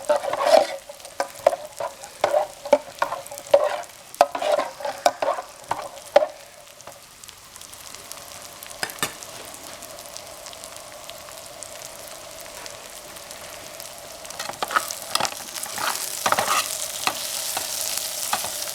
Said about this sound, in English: Remember to stir your macaroni every so often to cut down on it sticking.